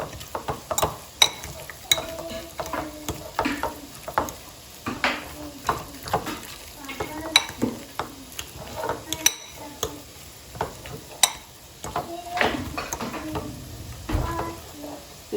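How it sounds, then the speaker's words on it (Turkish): Spices and tomato paste are stirred together in a pan, a spoon scraping and tapping against the metal in uneven strokes over a faint sizzle, close and fairly loud. "Şimdi bu baharat ve salçayı birbirine karıştırıyorum."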